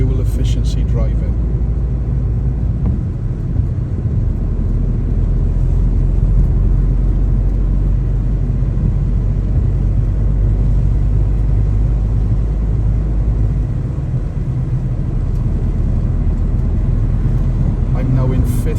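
A car pulls into the left lane and accelerates in traffic, a loud, steady low engine rumble with road noise continuing throughout while someone talks over it.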